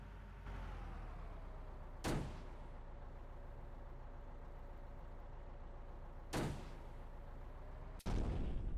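In a tank war video game, three sharp, heavy explosion booms burst over a constant low tank engine rumble, spaced a few seconds apart, with no talking.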